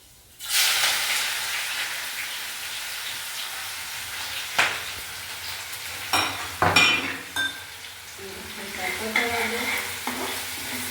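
Onion drops into overheated oil for pav bhaji and starts a loud, close sizzle. Clinks and scrapes of stirring follow as the frying settles into a steady hiss.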